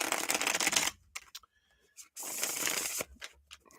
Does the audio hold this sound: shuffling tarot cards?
yes